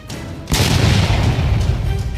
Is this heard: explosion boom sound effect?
yes